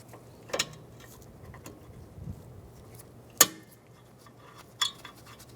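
Two caliper bracket bolts being threaded into position on a 2003-2011 Honda Element rear hub, giving faint metallic clicks and a few sharp clanks spaced over a few seconds against a quiet workshop background.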